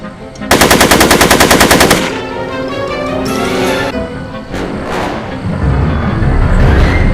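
A machine gun fires a long rapid burst of loud, evenly spaced shots in a film scene, followed by scattered single shots and rumbling noise.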